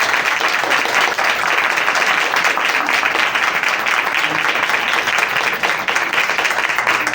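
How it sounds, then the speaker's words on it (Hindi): A church congregation breaks into loud, sustained applause during a sermon, dense clapping from many hands holding steady for several seconds without talk. "इस जिंदा कलाम के लिए एक दफा जोरदार तालियां बजाइए"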